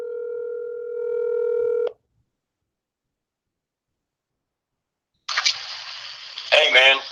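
A phone line tone and keypad dialing sounds are heard as a call is placed during a live sports talk show, followed by a pause and then a connection with voices coming through.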